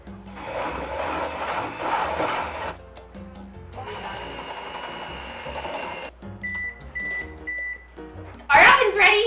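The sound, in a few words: oven beeping that it has finished preheating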